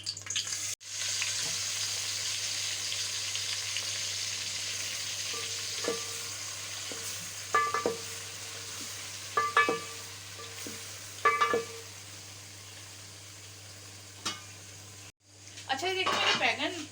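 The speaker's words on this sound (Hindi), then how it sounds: "अब मैं डालूंगी बैगन।" Eggplant fries in hot oil with chillies and curry leaves, giving a steady loud sizzle throughout with intermittent stirring clinks and scrapes, and a voice speaks briefly.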